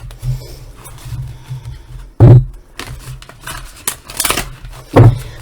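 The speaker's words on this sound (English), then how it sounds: "I'm having a real hard time shuffling today." Oracle cards being shuffled by hand, with soft scratchy riffling throughout and two sharper, louder snaps of the deck, one in the middle and one near the end.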